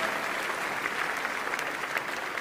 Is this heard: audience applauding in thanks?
yes